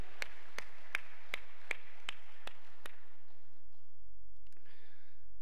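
A church congregation at a prayer-house revival meeting claps in unison, about eight sharp, evenly spaced claps in a steady rhythm, then the room falls quiet.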